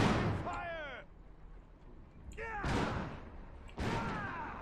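Artillery and gunfire from the Iron Harvest strategy game, with three heavy blasts spaced a second or two apart, each trailed by descending whistling tones, and game voices talking in between.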